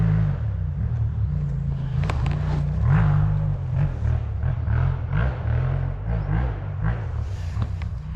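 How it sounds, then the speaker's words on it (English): A T7 rally motorcycle's exhaust burbles and throbs while riding fast mountain roads, a loud, low, pulsing engine note that rises and falls with throttle changes over the whole stretch. "That exhaust is something else."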